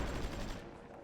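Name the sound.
anti-aircraft guns firing, video game Supreme Ruler Ultimate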